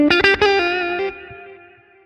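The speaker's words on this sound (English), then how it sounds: "on 4 I have a delay" An analog delay pedal with modulation after the amp on an electric guitar: a few struck, slightly distorted notes ring out, then fade through soft, wavering repeats into a long tail, with no talking.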